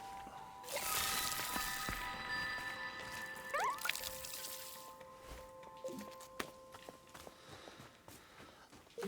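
Water being poured in the cozy game Wanderstop: a soft, fairly quiet splash and trickle against light footsteps and small tool clinks, with tonal chimes ringing through the quiet background.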